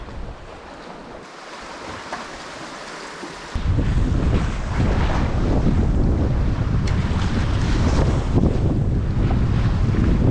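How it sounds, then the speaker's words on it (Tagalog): Strong wind roars against the microphone, jumping louder after a few seconds, with surf and rushing water mixed into the constant blustery noise. "malakas ang hangin"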